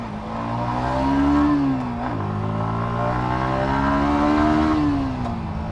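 A Yamaha XSR motorcycle engine revs close by, climbing in two smooth swells with a brief dip between them, then settling back toward idle, loud and alone with no talk.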